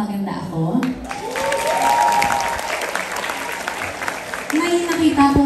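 Studio audience at a Filipino variety show applauds on request, a burst of clapping that swells and holds for several seconds while a voice talks over it near the start and end.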